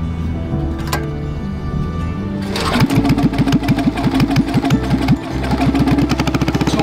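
A small engine fitted to a motorized primary glider catches and starts after a low background hum, then settles into a rapid, loud, steady putter close by, with no voices.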